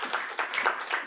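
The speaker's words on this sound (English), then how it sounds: "If you could give these guys a round of applause." Audience applause after introducing guest journalists at a panel on journalism ethics, a short burst of dense clapping at moderate level, with no talking over it.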